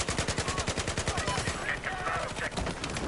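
Rapid automatic gunfire in Battlefield 4: China Rising, a steady stream of evenly spaced shots over three seconds, loud and close, with faint game effects behind.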